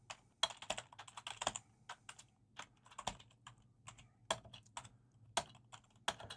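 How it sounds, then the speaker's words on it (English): Typing on a computer keyboard alone at close range, with uneven bursts of quiet key clicks and short pauses between them. "If I can type."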